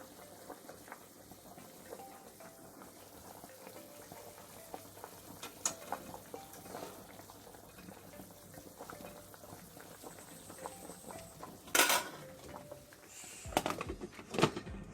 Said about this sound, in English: we are checking in on our pot just to ensure that the bananas does not start to break up